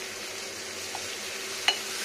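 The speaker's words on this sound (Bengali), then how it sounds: "এবার এটাকে ভাজা ভাজা করতে হবে" Spice mixture frying in ghee in a pan, a steady soft sizzle with a couple of faint stirring clicks, close and continuous with no talking.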